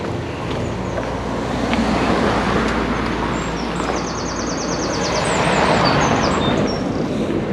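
Road traffic rushes past on a busy route with no footpaths around Bude, Cornwall, a loud, steady roar of cars swelling and fading nearby, with faint bird chirps above.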